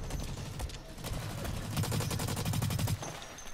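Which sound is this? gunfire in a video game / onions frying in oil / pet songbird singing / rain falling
gunfire in a video game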